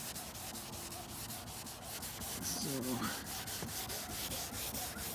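Steady rubbing of polish by hand onto the foggy, damaged headlight lens of a 2005 Volvo XC90 V8, a continuous close scrubbing with rhythmic strokes throughout, with a brief word spoken near the start.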